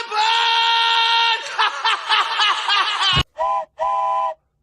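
A train whistle sound effect blows loudly as a long steady harmonic blast, then breaks into a fluttering section and ends with two short separate toots after a brief thump.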